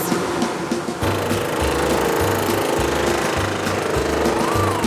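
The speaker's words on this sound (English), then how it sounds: "a precision cutter cuts through the wood" Precision cutter cutting wooden jigsaw puzzle pieces, a loud rapid buzzing chatter from the machine that runs in short repeated bursts, close and steady throughout.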